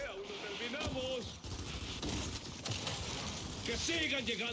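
Rapid bursts of Gears 5 gunfire crackle under busy game sounds and Spanish voices, with sustained automatic fire across the clip.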